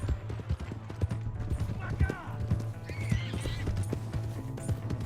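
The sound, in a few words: horse galloping in a video game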